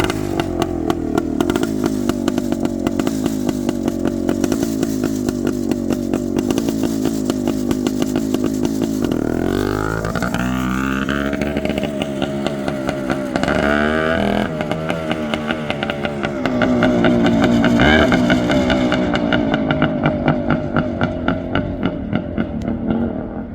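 Suzuki TS400 Apache motorcycle engine stuck in first gear, revving up and easing off repeatedly, a loud, raw two-stroke buzz rising and falling in pitch close by, with no talk.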